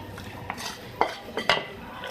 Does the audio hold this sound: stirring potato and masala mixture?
yes